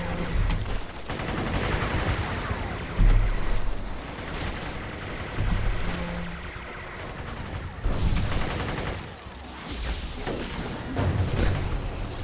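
Shotgun blasts and other gunfire in the video game City of Heroes, with repeated bursts and booming shots over a dense, chaotic combat mix that keeps going through the whole stretch.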